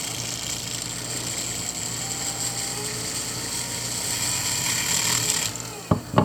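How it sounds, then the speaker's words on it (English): A rotary sanding barrel on a power tool grinds along the ridge of a fossil Scutellaster echinoid, a steady whirring rasp that builds slightly before cutting off, followed by a couple of sharp knocks. "I'm going to take the edge of the sanding barrel,"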